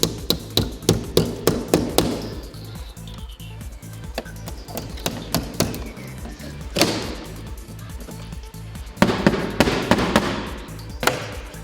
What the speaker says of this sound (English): We use a screwdriver and a hammer to open the box.